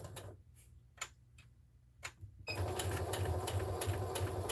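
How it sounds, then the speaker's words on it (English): Sewing machine stitching the final side of a lined drawstring goody bag, starting with a few light ticks and clicks, then settling into a loud, steady, fast hum of continuous stitching. "So now I'm going to sew"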